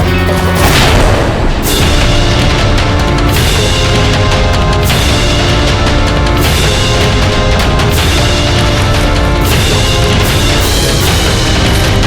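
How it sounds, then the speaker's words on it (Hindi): Loud, continuous explosion and blast effects in a Hindi historical TV drama about Maharana Pratap, with repeated booming impacts and rumbling debris throughout, dense and overwhelming without speech. "कितना जबरदस्त धमाका था।"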